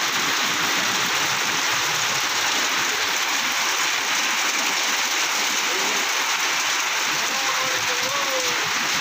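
Heavy downpour hisses steadily in a city, a dense, even wash of falling rain that stays constant throughout, with faint voices barely audible beneath it.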